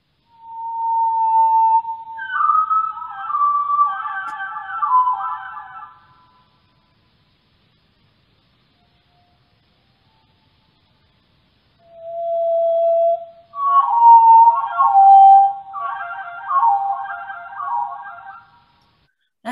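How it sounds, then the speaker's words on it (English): Two long, slowed-down thrush song phrases, each starting with a low sustained whistle and rising into eerie, wavering flute-like trills, separated by several seconds of silence. "And here's what he sounds like slow."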